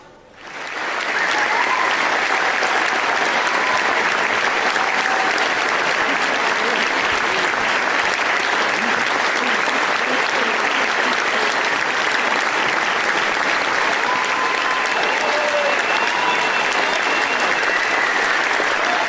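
An audience at a Cape Town City Ballet performance of Romeo and Juliet breaks into loud, sustained applause, a dense unbroken clapping that swells quickly and holds steady, with faint voices under it.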